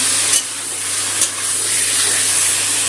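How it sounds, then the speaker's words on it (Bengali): Spice paste (masala) for raw banana kofta curry being fried in a pan on medium heat, a constant loud sizzle broken by two brief scraping stirs, close and without talk. "মশলাটা খুব ভালো করে কষিয়ে নেব সময় নিয়ে।"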